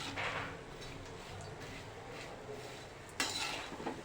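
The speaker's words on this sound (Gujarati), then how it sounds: "ધાણીને પણ બરાબર હલાવીને મિક્સ કરી લઈશું" Puffed sorghum (dhani) being stirred in a pan over a low flame, with a steady, close scraping and rustling that runs throughout and a sharper clink of the spoon near the end.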